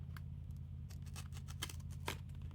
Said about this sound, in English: Now we press down that seal, grab our hand dandy card opener